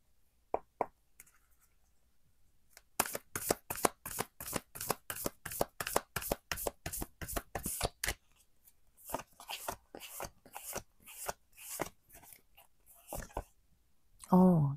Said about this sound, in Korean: 테마 카드 2장 뽑을 거고요